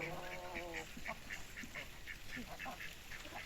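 Ducks quack in a steady run of short, nasal calls, several in quick succession, with a brief droning call at the start and faint farmyard noise behind, near a fighting rooster and hens.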